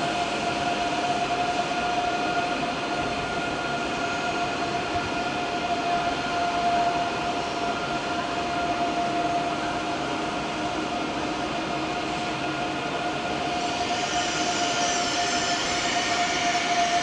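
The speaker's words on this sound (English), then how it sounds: "there's the ICE3 arriving in from Brussels by Cologne" An ICE 3 high-speed train arriving at Frankfurt Hauptbahnhof rumbles steadily close by with a sustained tonal hum and hiss, rolling on without letup and brightening near the end.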